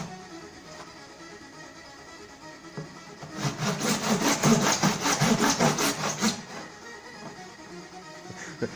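A hand saw cutting through a broken toy car, a rapid rhythmic rasping burst of strokes lasting about three seconds at close range, with quieter handling noise before and after.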